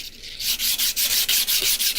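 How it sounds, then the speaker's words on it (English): Rhythmic rasping strokes of sandpaper on a fixed-blade knife, about a dozen quick back-and-forth passes in a steady rhythm, close up, with no talking. "I'm just sitting here sanding on the fixed blade"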